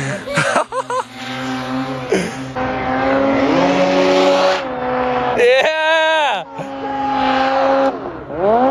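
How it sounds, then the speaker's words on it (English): A G5 turbo off-road vehicle accelerates hard, its engine whining and climbing steeply in pitch through repeated rev sweeps and gear changes, loud and close, with brief drops between pulls. "watch the friggin' speed this G5 turbo has here"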